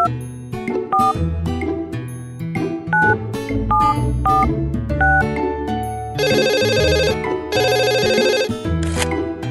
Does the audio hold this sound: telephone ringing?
yes